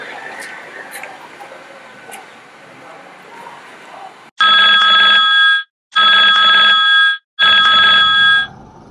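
A telephone rings in a Hindi film scene in three loud electronic bursts with short gaps between them, following a stretch of quieter background murmur and room noise.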